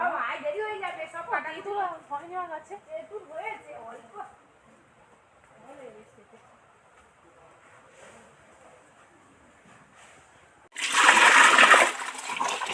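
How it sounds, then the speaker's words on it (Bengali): A person talks at length, then running water gushes loudly for the last couple of seconds as kulekhara greens are rinsed under a generous stream in a kitchen. "একটু বেশি করে জল লাগছি কারণ কুলপি শাকটা ভালো করে ধুতে লাগবে"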